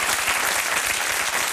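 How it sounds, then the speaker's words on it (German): Thick, continuous applause from a comedy audience in a German show, a full crowd clapping evenly and loudly throughout. "Wenn Sie wollen, dann klatschen Sie doch."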